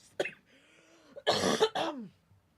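A short burst of harsh, throaty coughs, close and fairly loud, several in quick succession.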